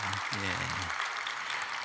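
A church congregation at a Sunday worship service claps for its new-family ministry teachers; a voice speaks briefly at the start, then broad, even applause from many people fills the room.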